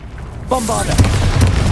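A Bombarda spell in Hogwarts Legacy goes off: a brief voice, then a deep, rumbling explosion boom that keeps rolling to the end.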